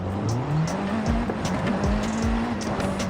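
Race car tires squealing and skidding in the Forza Horizon 5 video game, with engine tone rising and falling under repeated short tire chirps, loud and continuous.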